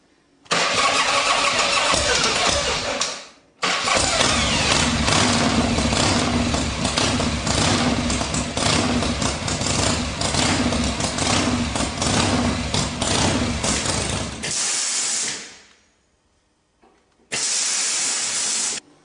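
An engine cranks over with its starter and catches, then runs with a loud, steady, hissing roar for about eleven seconds before cutting off abruptly, followed by one short burst of the same sound after a silent gap.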